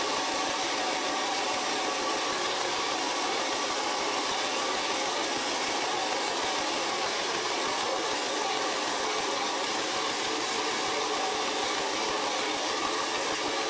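A hair dryer blows steadily while hair is styled with a round brush, a constant broadband whoosh that stays loud and unbroken throughout with no talking.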